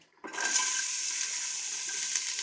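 Half a red onion drops into hot oil for soup and starts sizzling at once, a loud steady hiss that holds close-up to the end after a brief quiet start.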